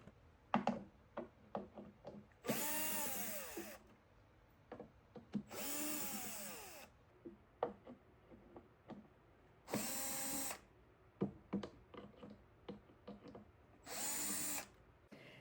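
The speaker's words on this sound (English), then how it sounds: "I'm just going to unscrew it and see if it'll just come off from here" A power drill unscrews screws from an old furniture base bought at an estate sale, with four loud whirring bursts separated by clicks, knocks and handling noise close by.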